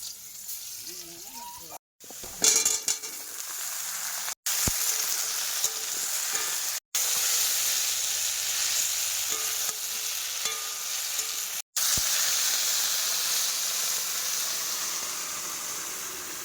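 Crushed garlic and chopped onion sizzle steadily in a pan, a continuous close frying hiss with a few brief dropouts.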